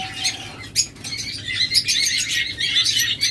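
Caged pet birds offered for sale, lovebirds or cockatiels kept as breeding pairs, give a busy run of bright, high chirps and short squawks that repeat quickly and stay close, with no talking.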